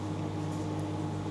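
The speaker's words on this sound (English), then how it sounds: "I'm just heating up some soup, so please ignore the sound of the microwave" Microwave oven running while heating soup in a home kitchen, a steady low hum with a constant mechanical drone, moderately quiet and unbroken.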